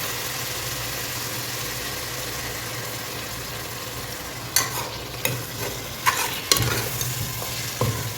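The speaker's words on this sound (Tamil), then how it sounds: "ஸோ அப்படியே கொஞ்சம் ஃப்ரை ஆகும் ஒரு 5 மினிட்ஸ்" Biryani masala with yogurt fries in a pan under a steady, loud sizzle and hiss, and in the last few seconds a spoon scrapes and knocks against the metal a few times.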